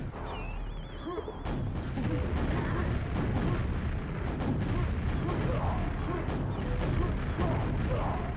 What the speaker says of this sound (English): Somebody flying in circles around you, shooting rockets down at your location.